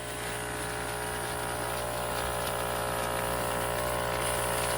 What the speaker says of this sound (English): So what that's doing is backwashing all the beads that are inside of this machine.